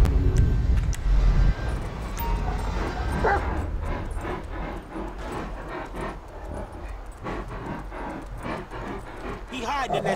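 Chop, a dog in Grand Theft Auto V, gives short yips and whimpering barks, with game sounds and voices talking around them.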